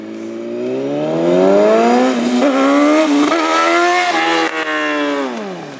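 A Yamaha R6 600cc sport bike accelerates hard, its engine note climbing steadily through the revs with a brief dip partway through, loud and close for several seconds with no talking.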